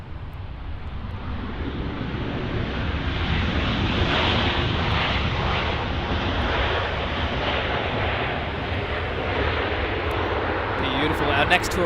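An airliner taking off from runway 24 left at Los Angeles airport: a loud, broad engine roar that builds and holds steady for about twelve seconds, with wind buffeting the microphone.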